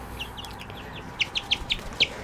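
A few backyard chickens, including an Easter egger, make a quick series of short, sharp clucks and chirps, fairly close, over faint background.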